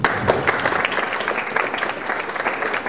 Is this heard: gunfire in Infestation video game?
no